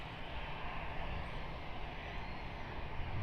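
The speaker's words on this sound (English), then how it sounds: "Should be a really nice sounding takeoff, so I'll stay quiet for this one" Air Asia airliner taking off from Perth Airport bound for Denpasar, Bali, its broad steady jet roar filling the scene and swelling slightly toward the end, heard from a spotting position with no talk.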